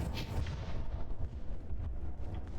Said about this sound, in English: Explosions on the outside.